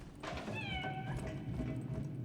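A cat meows in the video game Lies of P, a clear, drawn-out high cry over a steady game soundscape, with no voices over it.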